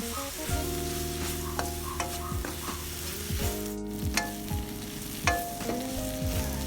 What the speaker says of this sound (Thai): แล้วตามด้วยกระเทียมพริกไทยที่เราโขลกไว้ แล้วคั่วต่อจนกระเทียมมีสีเหลือง